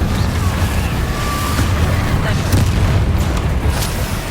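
Confringo explosive spell blasts in the Hogwarts Legacy video game, a dense continuous rumble of booming low-end impacts lasting throughout, loud and layered with game effects.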